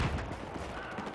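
Dense, rapid bursts of airsoft gunfire crackle continuously in a brief stretch of an outdoor team scrimmage, loud and close with overlapping shots.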